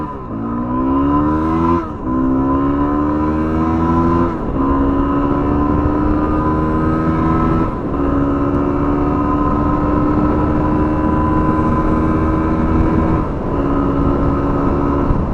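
Yamaha WR250R dual-sport motorcycle accelerating hard from a standstill to 70, engine revving up through several gears with rising pitch and short drops at each shift, loud and close with steady road noise.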